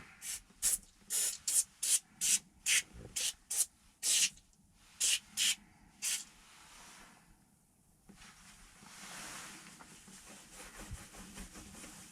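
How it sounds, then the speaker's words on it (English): A spray bottle of cleaner is pumped inside a Chevrolet C10 cab in a quick series of sharp hissing bursts, about a dozen in a row, followed by a softer, steady hiss of liquid settling. "Just one spray."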